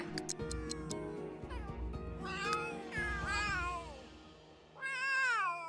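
Several cats in The Sims 3 meow in turn, a few clear rising-and-falling calls over quiet soft clicks and ambient game sounds, fairly faint with one longer meow at the end.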